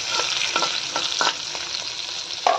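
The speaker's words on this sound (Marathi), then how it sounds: "थोडंसं जिरं, हे छान परतून झालं की थोडंसं हिंग आणि हळद हे मिक्स करून घेऊया." Cumin, asafoetida and turmeric sauté in hot oil while cabbage curry cooking begins, a steady close sizzle broken by several short scraping stirs, with no talking.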